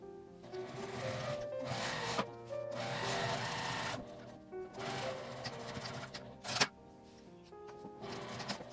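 Sewing machine running in bursts as it stitches the side seams of a shoulder drawstring bag with a 1.5 cm seam allowance, steady mechanical whirring with short pauses between runs, no talk.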